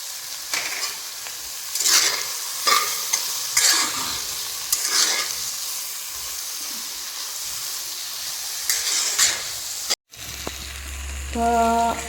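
Chopped brinjal and tomato sizzle in a pan while a spoon scrapes and stirs them in repeated strokes, a steady close frying hiss running throughout before a brief cut to a different sound at the end.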